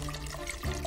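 Liquor splashing into a glass while a martini is mixed, a short, close, wet pour running right through the brief moment, with no talk.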